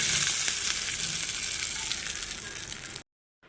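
A tempering of mustard seeds, urad dal and curry leaves sizzles in hot oil as it goes into a chutney, a loud bright crackle that gradually softens and then cuts off abruptly into silence.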